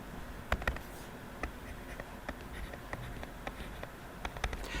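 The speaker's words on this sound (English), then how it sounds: "Let's write it again" Marker or chalk writing on a classroom board during a physics lesson on momentum, heard as faint scattered taps and short strokes in irregular rhythm over quiet room tone.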